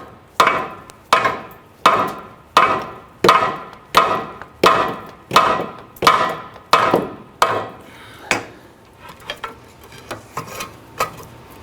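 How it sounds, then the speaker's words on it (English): Repeated ringing hammer blows on a ball joint of a 1999-2004 Jeep Grand Cherokee rear upper control arm, about a dozen strikes in a steady rhythm, close and loud, then trailing off into lighter, quicker taps. "You can try using a hammer while you're doing this in conjunction to try and shock it to break it free."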